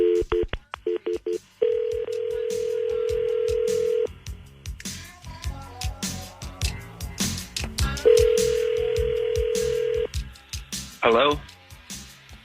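Touch-tone keypad dialing an outgoing call: short DTMF beep bursts, a steady tone, a second run of tones and another sustained tone, ending with a warbling ring, all close and fairly loud.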